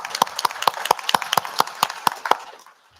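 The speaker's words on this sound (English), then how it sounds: "Let's have another round of applause for our students and our world-class employees and our community partners." A small group claps for students, employees and community partners at a school district board meeting: about a dozen distinct, evenly spaced claps, close and crisp, fading out at the end.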